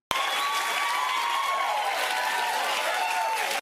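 A studio audience bursts into steady, full applause mixed with some cheering, dense and continuous throughout before cutting off abruptly.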